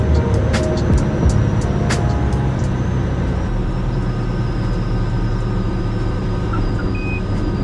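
A Cessna 172 lands in Microsoft Flight Simulator, a loud, steady engine drone with rumbling rollout and a few brief tones and clicks from the cockpit, no talking.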